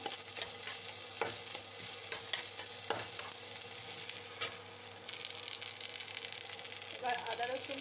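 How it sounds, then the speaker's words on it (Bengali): Chopped onions fry in hot oil with a steady, close sizzle, broken by occasional clicks and scrapes of a spoon stirring the pan. "তেল গরম হয়ে গেছে এবার পেঁয়াজ দিয়ে দেবো পেঁয়াজ কুচি একটু ভেজে নেবো"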